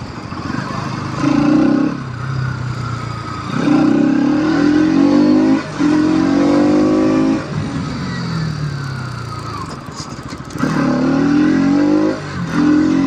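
A 2024 Bajaj Pulsar NS 200 BS7, a 200 cc motorcycle, revs loudly while being ridden, its exhaust note rising and falling through repeated throttle bursts and gear changes, close up.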